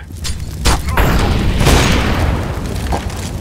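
An incendiary grenade lands in a Counter-Strike match, giving a close, heavy boom followed by a sustained roaring, crackling burn that stays loud for the few seconds, with no voices.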